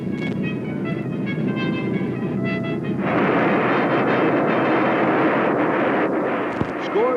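Bell X-1 rocket plane with all four rockets firing after release from a B-29 bomber: a steady, loud broadband roar that swells abruptly partway through and holds without voices.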